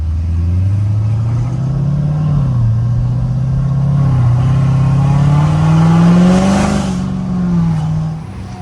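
A 900 whp Corvette C7 Z06 accelerates hard, its loud engine note climbing and dipping through a sustained rev, close and continuous for several seconds before easing off at the end.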